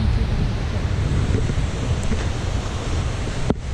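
A waterfall swollen by the rainy season roars continuously near the Manali–Rohtang highway. The close, dense, low-heavy rush is buffeted by wind noise on the microphone, with a single brief knock near the end.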